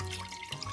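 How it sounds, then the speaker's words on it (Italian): Cold water running into a wide pan over salt cod for baccalà mantecato, a short, steady, soft splashing pour heard close with no talking. "lo copriamo con dell'acqua fredda,"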